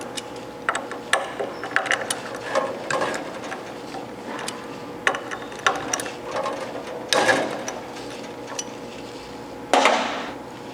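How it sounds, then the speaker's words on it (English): Bolts on a bandsaw wheel being loosened with a 5/32 Allen wrench, giving irregular close metallic clicks and ratcheting turns with short pauses between them and no speech. "We'll start by loosening these bolts."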